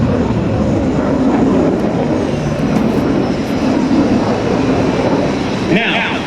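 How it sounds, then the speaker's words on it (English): A QF-4E Phantom jet aircraft takes off at an air show, a loud, steady roar of jet engine noise that fills the clip, with voices partly audible beneath it. "Now, the airplane that just took off is one that I want you to take a look at."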